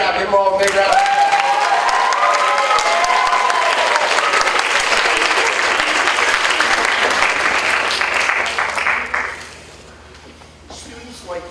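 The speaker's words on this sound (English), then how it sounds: "Give them all a big round of applause." A middle school speech contest audience applauds the placed finalists with loud, dense clapping and some cheering, sustained for about nine seconds before dropping off to scattered claps and room noise.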